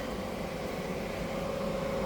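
Cooling fans inside a 2021 Ram ProMaster camper van build give off a steady, close whooshing hiss with a faint whining tone. The sound stays constant throughout and plays alone.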